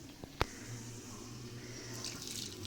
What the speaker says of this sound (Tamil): கொஞ்சமாக தண்ணி விட்டு